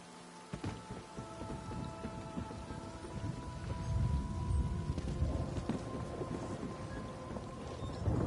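Steady rain pours with low thunder rumbling through a stormy scene in The Elder Scrolls Online, the downpour dense and constant, swelling slightly louder midway, with no voices.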